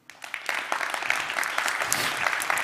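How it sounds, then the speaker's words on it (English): Audience applause for speaker Tim at a TEDx climate conference at Wageningen University: dense, steady clapping from a large crowd that swells quickly after a soft start and holds for the whole stretch. "Another round of applause for Tim!"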